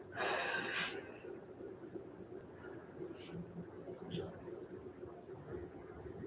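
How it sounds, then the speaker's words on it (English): Deep breathing during a relaxation exercise: a strong inhale at the start, followed by softer, slow breaths over a quiet, steady background. "Again, taking some deep breaths."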